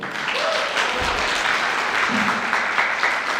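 A live audience applauds a newly unveiled trophy at a Korean bad-film awards event, a steady wash of clapping lasting throughout, moderately loud, with a few faint voices mixed in.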